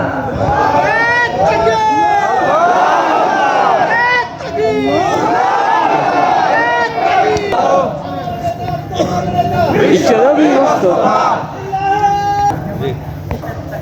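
At an outdoor Islamic religious gathering at a madrasa complex, a large crowd shouts slogans in loud, near, unison bursts, with rising and falling chanted phrases repeating over about fourteen seconds.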